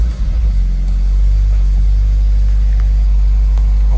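A car engine cranks and catches, then settles into a steady low idle rumble that carries loud and close throughout, with no talking over it.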